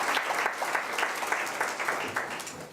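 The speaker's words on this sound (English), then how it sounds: "you deserve a round of applause" Audience applause fills a youth parliament hall, a steady wash of many hands clapping at moderate loudness, dense and continuous from start to finish.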